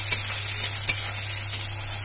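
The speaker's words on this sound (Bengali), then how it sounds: "কড়াইতে আমি সর্ষের তেল গরম করতে দিয়েছি, তেল গরম হয়ে গেছে। এখানে আমি পেঁয়াজের টুকরোগুলো দিয়ে দেবো।" Onion pieces frying in hot mustard oil in a wok: a loud, steady hiss of sizzling oil close up, with a couple of brief sharp crackles and a low hum underneath.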